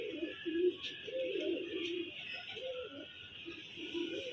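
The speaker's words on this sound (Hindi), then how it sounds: "ये कबूतर दिया है जी इस कबूतरी के साथ।" Malwai pigeons coo nearby in repeated soft, throaty phrases, a gentle rolling rhythm over a steady background hiss.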